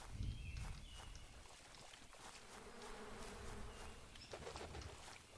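Faint, soft buzzing of bees in the beekeeping game APICO runs under quiet ambient game sounds and occasional light footstep-like taps.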